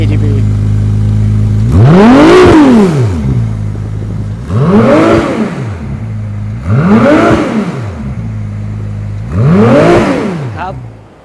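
A Ferrari 296 GTB engine revs hard four times at close range, each burst rising sharply in pitch and falling away over a steady idle, with a talking voice faintly under it.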